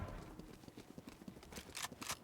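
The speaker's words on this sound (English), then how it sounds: "I hear footsteps here." Rapid, evenly paced footsteps in the shooter game Valorant tap along steadily at low volume, with a few brighter hits near the end.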